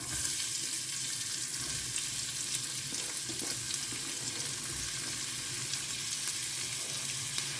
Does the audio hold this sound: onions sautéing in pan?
yes